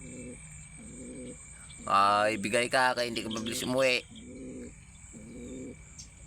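Pigeons coo in soft, evenly spaced low phrases, repeating nearby; someone speaks loudly over the middle stretch before the cooing continues alone.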